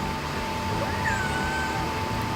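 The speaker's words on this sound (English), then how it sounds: "I think my cat is very concerned." A pet cat gives a short, rising-then-falling meow indoors, faint over a steady background hum, a single call lasting under a second.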